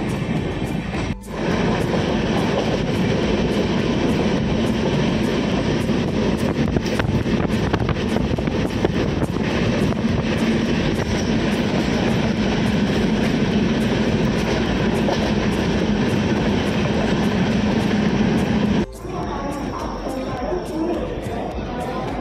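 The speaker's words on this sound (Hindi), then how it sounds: "ट्रेन के अंदर" Inside a moving general-class train bound for Mumbai from Bhusawal, a steady loud rumble and rattle of the carriage continues throughout with clicking from the rails and faint passenger chatter underneath, then a brief dip near the end.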